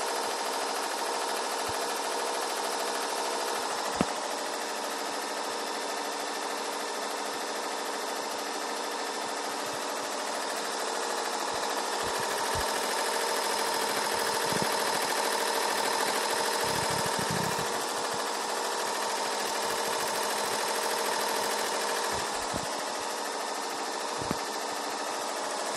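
An embroidery machine stitches a coat of arms design with a steady, continuous mechanical hum and rapid needle chatter that stays even and fairly loud throughout, with no voices.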